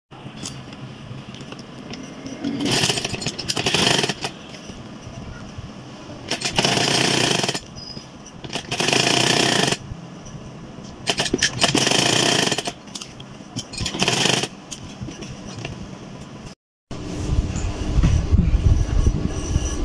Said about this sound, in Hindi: अब मैं इसको इधर से सिलाई लगाती हूँ